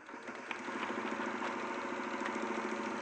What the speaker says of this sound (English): So just while Joe sews there